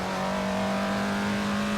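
A 1930s Maserati 8CTF pre-war race car in Assetto Corsa at historic Monza, its engine holding a steady, loud droning note close up with no talk.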